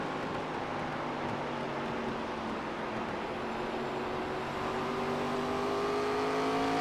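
On-board at Oswego Speedway, a stock race car's engine drones continuously at a steady, fairly muffled level during a short-track race, with rising whine tones as it accelerates and no voices.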